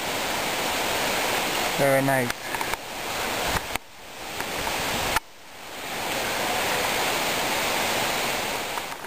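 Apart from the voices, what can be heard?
waterfall in Oregon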